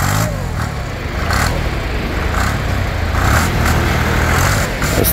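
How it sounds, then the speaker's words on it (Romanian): Small diesel engine of a Ferrari two-wheel walking tractor, a smoky single-axle farm machine, revving up in repeated bursts close by, its throaty chug rising and falling over a rough idle. "Scoate fum, că e normal, e motor diesel."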